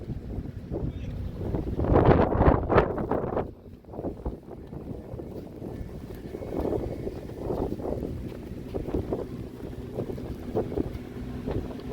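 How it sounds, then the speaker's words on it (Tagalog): Strong wind blows during a snow storm at minus 24 degrees, gusting and roaring close to the microphone, with a loud surge early on and then a steadier rumbling buffet. "Mahangin."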